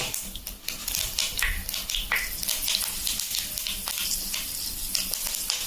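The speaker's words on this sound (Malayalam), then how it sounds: "നമ്മുടെ കടുകൊക്കെ ഇതാ പൊട്ടി വരുന്നുണ്ട്" Dense, crackling sizzle of mustard seeds and fenugreek popping in hot oil, with rapid irregular pops throughout and no voices.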